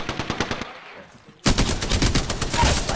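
Rapid automatic gunfire from Apex Legends, a burst of close, loud shots, a brief lull, then a denser, louder stream of fire.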